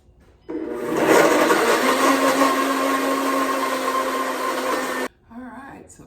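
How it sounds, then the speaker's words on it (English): A high-powered blender whirs steadily as it purées dates into a thick, hot paste, a loud continuous motor roar with a sustained whine that runs for several seconds and then cuts off abruptly. "That's the thing about a high-powered blender."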